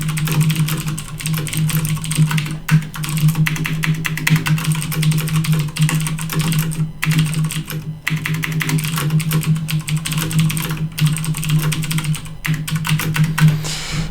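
Steady, rapid clacking of keys on a computer keyboard, close up and continuous with brief pauses, no voices.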